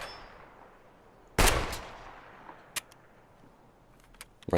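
Shotgun firing at a wall in Escape From Tarkov, one loud sharp blast followed by a fading tail, then a metallic clink and a few small clicks near the end.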